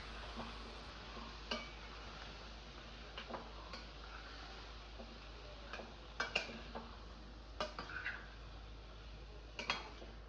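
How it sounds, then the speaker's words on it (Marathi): Washed peas and cauliflower being stirred and sautéed in a spice mixture in a pan, soft scattered clinks and scrapes of the spoon against the pan over a faint steady sizzle. "आता भाजी ही आपल्याला या मसाल्यामध्ये छान अशी परतवून घ्यायची आहे"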